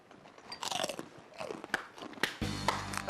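Someone bites into crunchy Filipino food dipped in vinegar and chews it up close, producing loud, rapid crackling crunches over about three seconds with a few sharper snaps near the end.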